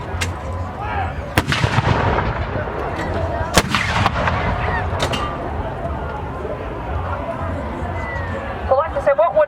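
Vintage artillery field guns fire several loud, booming shots at an outdoor display, the blasts spaced irregularly across the span with crowd chatter and talk continuing beneath them.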